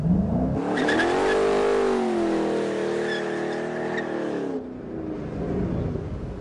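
A 2013 Ford Shelby GT500 revs its engine to heat the rear tires, a loud sustained roar rising and dipping in pitch for about four seconds, then cutting back to a lower drone.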